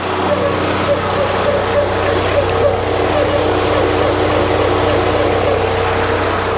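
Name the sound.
2016 Toyota Tundra TRD Pro engine revving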